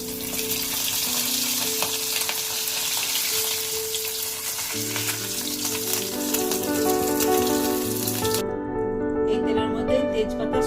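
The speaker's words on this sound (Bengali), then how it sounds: "মাছের মাথা ভাজা হয়ে গেছে ভাজা মাছের মাথা কড়াই থেকে উঠিয়ে নেবো" Fish heads sizzle steadily as they fry in a wok, under background music, the hiss dropping away shortly before the end.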